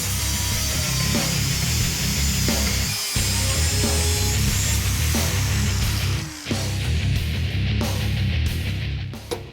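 A power tool saws steadily through the chrome bumper skin of a 1973 Buick Century, cutting it in half with a loud, continuous grinding rasp, broken by a couple of short pauses and no talking.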